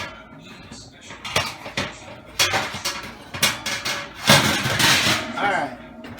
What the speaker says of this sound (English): but I got to change the grates here